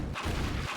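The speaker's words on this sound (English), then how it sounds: "Just listen to how a Combine soldier's gunshots change as you drive towards them." Two heavy gunshot booms from Combine soldiers in Half-Life 2, as heard while driving toward them, come in quick succession and sound muffled and distant, with no talk.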